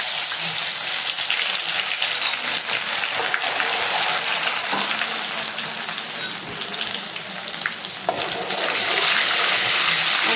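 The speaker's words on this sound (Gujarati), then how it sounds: "હવે આપણું તેલ ગરમ થઈ ગયું છે. તેમાં આપણે આદુ, મરચાં અને લસણની પેસ્ટ નાખશું." Ginger, chili and garlic paste frying in hot oil for pav bhaji, a steady loud sizzle with faint stirring that holds throughout, no voices.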